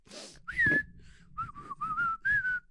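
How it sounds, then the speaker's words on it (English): A person whistles a tune in a clear, close melody of several sustained notes, after a quick intake of breath, with short gaps between the phrases. "Man, I'm glad I pulled off that whistle."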